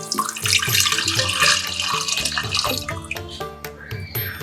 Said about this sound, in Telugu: ఇందులో ముందుగా మనం ఇందాక తీసుకున్నటువంటి చింతపండు రసాన్ని ముందుగా పోసుకుందాం